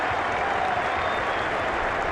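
A cricket crowd at Trent Bridge gives a standing ovation to batsman Brian Bennett after his century, steady dense applause held at even loudness throughout, with no voices rising above it.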